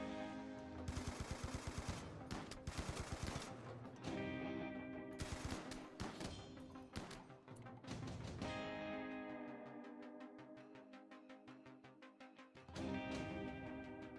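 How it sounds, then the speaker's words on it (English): Turrets fire on metal horrors in the video game Rimworld, with dense bursts of rapid gunfire that start and stop repeatedly and keep the level high throughout. "the turrets have good crossfire"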